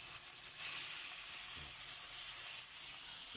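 Ground meat sizzling steadily in a hot pan, a continuous close frying hiss with no voices.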